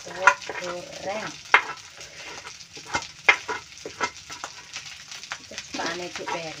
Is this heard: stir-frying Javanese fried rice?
yes